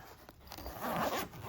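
A zipper runs along the cover of a Goal Zero Atlas 80 portable fridge in one short, close zip that rises to a louder scrape near the end.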